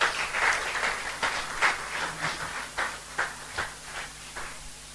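A church congregation claps in a steady, uneven ripple of many hands at moderate distance, a few seconds of continuous applause without clear voices.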